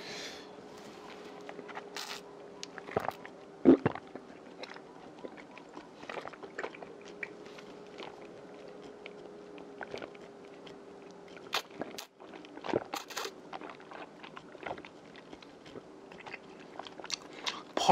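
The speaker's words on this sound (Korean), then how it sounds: "펄 말고도 쿠키가 씹혀요." Close, soft chewing and biting of bubble tea pearls and cookie pieces in milk tea, with irregular crunchy bites and squishy chews over a faint background hum.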